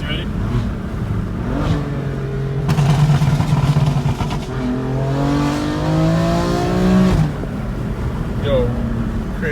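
A BMW M4 with a bootmod3 tune revs and accelerates hard through rising gears, loud and close, with a brief shout partway through.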